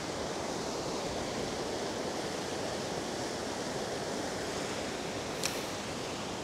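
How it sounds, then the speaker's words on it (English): Ocean surf rolling in at a beach in Rosarito, Mexico, a steady, full wash of breaking waves with no pauses. A brief higher click comes near the end. "every time that little wave comes in, it's gonna push my line a little closer"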